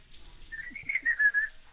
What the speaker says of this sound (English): I didn't mean to whistle in that.